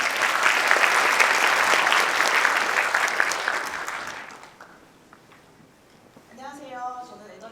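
Sustained applause from an audience at a university undergraduate orientation, loud and steady for about four seconds, then fading out before a single voice begins speaking.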